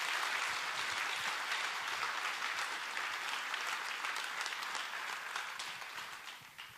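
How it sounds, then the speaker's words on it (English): An audience applauds after a reading at an author conversation event, a dense, even wash of clapping that gradually fades toward the end. "I want to just give him an incredible applause for that"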